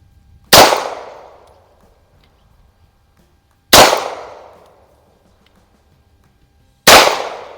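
Three loud, sharp shots from a Smith & Wesson 39-2 9mm pistol at a range, evenly spaced about three seconds apart, each with a short decaying echo and no talking.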